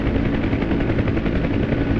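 OH-58D Kiowa helicopter in DCS World flight, a steady dense rotor and turbine roar with a fast rhythmic chop, loud and continuous, no talk.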